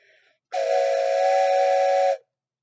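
A single steady train whistle blows for about two seconds, clear and fairly loud, then cuts off into silence.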